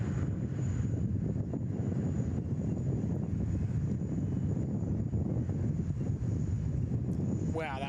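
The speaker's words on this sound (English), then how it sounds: "Wow, that wind." Wind buffets a microphone outdoors at Sydney Airport, a loud continuous low rumble that never lets up, with a faint steady tone above it.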